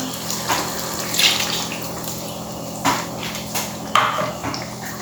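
Water pouring into a cooking pot during preparation of a Goan chicken xacuti, a steady gushing splash with a few louder splashes and clinks, close by and with no talking.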